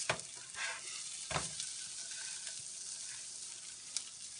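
Blackened salmon sizzles quietly and steadily in a hot pan just after being flipped, with a few soft clicks of a utensil against the pan.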